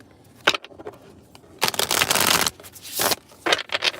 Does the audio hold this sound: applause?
no